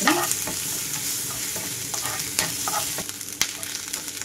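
Freshly ground ginger garlic paste and cumin seeds fry in hot oil for a Telugu cabbage prawns dish, giving a constant close sizzle broken by spatula stirring clicks.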